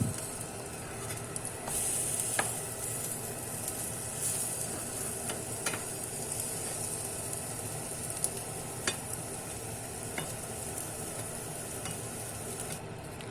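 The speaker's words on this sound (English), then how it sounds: "I just love that sizzling noise." Garlic green onion naan sizzles in a frying pan with oil, a steady, moderately loud hiss and crackle with a few brief sharper pops.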